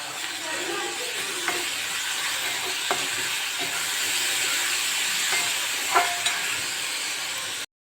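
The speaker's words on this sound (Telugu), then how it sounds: "ఇందులో అల్లం వెల్లుల్లి పేస్ట్, కొంచెం ఉప్పు వేసుకొని కలుపుకుందాం." Chopped tomatoes with ginger garlic paste and salt being stirred in a pan, a steady soft sizzle with occasional spoon scrapes and taps against the metal, close and moderate.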